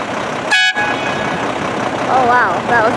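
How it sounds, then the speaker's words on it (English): A single loud truck horn blast sounds briefly near the start, followed by background traffic noise and a few brief voices. "Honk it."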